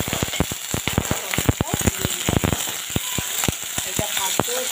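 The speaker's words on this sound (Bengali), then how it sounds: "লাল লাল করে ভাজা হবে।" Onion and green tomato fry in a pan, giving dense crackling pops and sharp spits over a steady hiss, close and fairly loud, with no talking.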